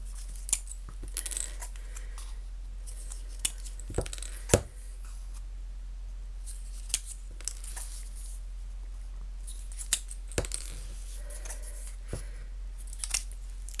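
Scissors snip through green straw in sharp, isolated clicks spread irregularly over a quiet room hum, close and fairly faint, with no talking.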